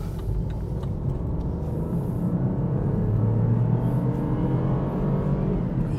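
A BMW X1 sDrive18i pulls away on a quiet road, its engine a steady, close rumble that swells slightly midway as the car gathers speed, with no voices over it.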